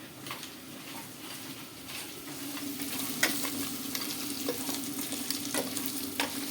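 Curry sizzles and fries in a pan while a spoon stirs it, giving a steady close hiss with repeated soft scraping taps.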